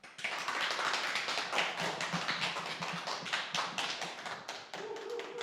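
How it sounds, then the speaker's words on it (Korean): An audience at a public lecture applauds to welcome the speaker, many hands clapping in a dense, continuous patter that holds steady for several seconds. "여러분 힘차게 환영의 박수를 부탁드립니다."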